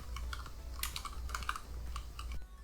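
A computer keyboard is typed on in a quick burst of close, crisp key presses, including a shortcut combination, then stops.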